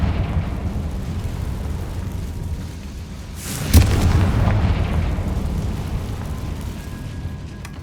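Confringo blasting curse detonating in Hogwarts Legacy: a rumbling background swells into one sharp, loud explosive crack, followed by a lingering booming roar that slowly fades.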